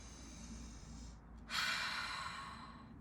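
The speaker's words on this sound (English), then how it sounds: "take a deep breath" One deep, audible breath is drawn sharply through the nose during a breathing exercise, a close rushing inhale after a brief quiet pause, followed by a slow fading exhale.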